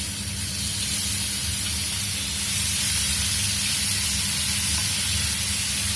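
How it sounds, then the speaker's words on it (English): Onion paste sautéing in hot mustard oil gives a steady, loud hiss and sizzle that holds evenly for the whole stretch, close up and with no voices over it. "we'll saute the onion till it is mildly fried"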